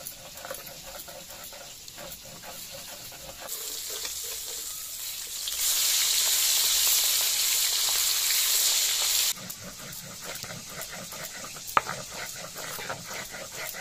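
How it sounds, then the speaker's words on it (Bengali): Hilsa fish pieces going into hot oil, a loud, bright hissing sizzle that swells for a few seconds and then settles back to a steadier crackle, with a sharp clink near the end. "তেল গরম হয়ে গেছে, মাছ দিয়ে দেব"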